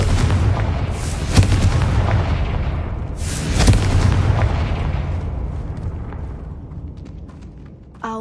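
A Confringo spell blast in Hogwarts Legacy, two heavy booming explosions a couple of seconds apart, each with a deep rumbling tail that slowly fades out.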